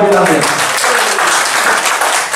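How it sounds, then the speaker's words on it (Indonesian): Audience clapping at a business platform presentation, a steady loud burst of applause lasting a couple of seconds with a voice briefly audible at the start. "Tepuk tangan buat Aditano."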